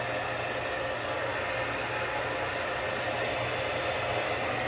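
A hair dryer blowing heat onto a beard during styling: a constant loud rushing roar with a low motor hum underneath, steady and close for the whole stretch.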